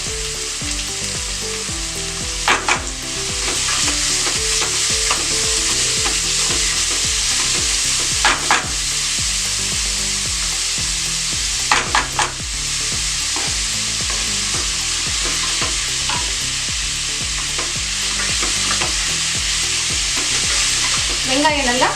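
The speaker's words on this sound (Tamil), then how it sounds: "வெங்காயம் நல்லா பொன்னிறமாக வதங்கணும்." Chopped onions sauté and sizzle steadily in a pan for a chicken cheese lasagna, with a few scraping stirs near the start and middle, over faint background music.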